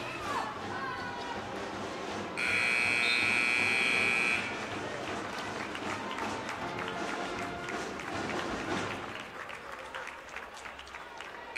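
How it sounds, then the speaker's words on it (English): A loud, steady electronic buzzer sounds for about two seconds in a high school girls' basketball gym at halftime, over crowd noise and an announcer talking. "Buzzer's getting ready to sound, and we should be ready to go here in moments."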